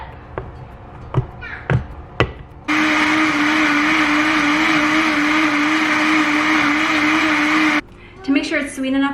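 A countertop blender whirs steadily for about five seconds, loud and continuous, blending a smoothie of cucumber, kale, banana, mango and water, with brief talk and tapping before and after.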